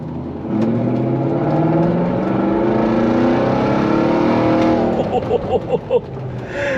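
A BMW X5 V8 engine idles with a deep, steady rumble that rises and falls slightly in pitch, then settles into uneven lower pulses near the end.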